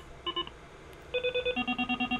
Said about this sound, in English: this is how it sounds on the actual phone